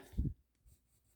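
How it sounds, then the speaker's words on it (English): A pencil held on its side lightly shades along the edges of a Zentangle paper tile. There is a short, soft scratchy stroke near the start, then faint rubbing. "go right along the edge of each of these lightly, kind of using my pencil on the side"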